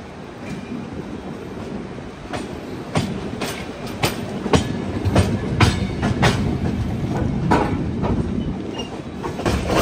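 Humsafar Express on the Bhubaneswar to Bangalore run rolls along the rails with a steady rumble, punctuated by repeated sharp clickety-clack wheel beats over rail joints at an uneven rhythm.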